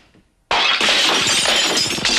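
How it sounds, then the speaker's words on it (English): Cartoon-style crash of a lamp shattering into pieces, a sudden loud burst of breaking glass after a brief quiet moment, with scattered debris clattering on for nearly two seconds. "crashing into a lamp, which fell and broke into pieces"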